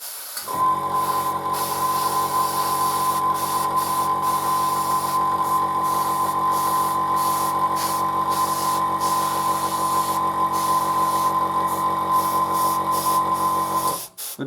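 An airbrush sprays paint onto a Panzer IV model, giving a loud, unbroken hiss with a steady tonal whine underneath that runs for about fourteen seconds and then cuts off.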